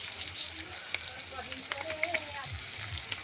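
Turmeric, chilli powder and cumin stirred in a frying pan for a jackfruit curry, a faint steady sizzle with light scraping strokes and a few soft clinks.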